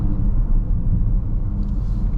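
A 2024 BMW X5 M60i engine while driving, a steady low rumble heard from inside the cabin, continuous and fairly loud with no distinct revs or gear changes.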